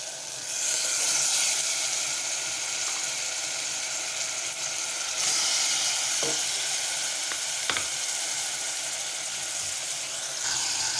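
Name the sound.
chicken sautéing in pan with ginger garlic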